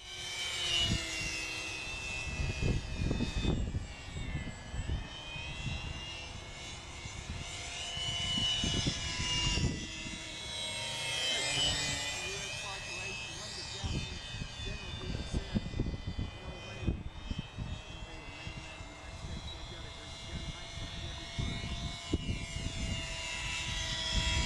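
A de Havilland Tiger Moth biplane engine drones on a windy day, a steady buzzing hum that swells and fades as it passes, mixed with wind buffeting and people talking nearby.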